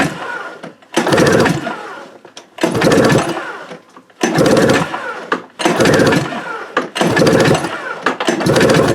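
Five pull-start attempts on a small engine with the throttle held wide open, each a loud close burst of cranking chug lasting about a second, separated by brief quiet gaps.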